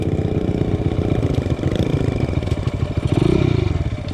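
A small pit bike engine runs loud and close, a steady, buzzy, throbbing drone with a rattling clatter and a slight rise in intensity near the end.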